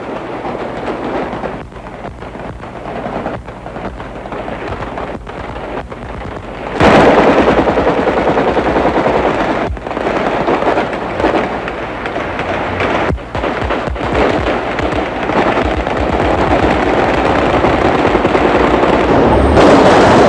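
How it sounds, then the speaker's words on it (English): Celebratory gunfire as PLO fighters leave Beirut in 1982: dense, loud bursts of automatic weapons fire crackle continuously, with sharp single shots and rapid volleys layered over a rumbling crowd and vehicle din. "this departure became something of a celebration, with the PLO going out, guns blazing"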